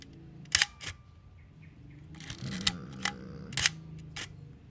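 Praktica Nova SLR film camera body working its shutter in bulb mode, with several sharp mechanical clicks and clacks, some in quick pairs, close and loud over near-silence, plus a soft whirring rattle midway.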